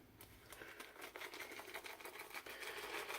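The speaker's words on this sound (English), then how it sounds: "We're going to go ahead and bowl lather." A synthetic shaving brush whips Barrister and Mann Latha unscented soap in a bowl, making a quiet, rapid, uneven swishing and clicking sound up close.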